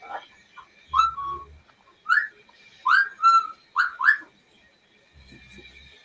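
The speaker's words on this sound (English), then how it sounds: "Like a whistle noise." A whistle noise comes in a series of short, sharp rising chirps, five or six bursts in quick succession, fairly close and clear against near silence with a faint low rumble.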